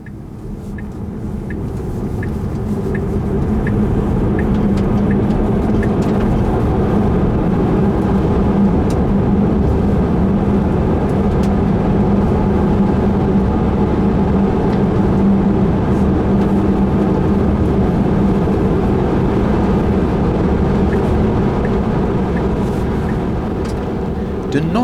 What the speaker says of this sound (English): The noise in the cabin while driving on a highway seems to be quite high.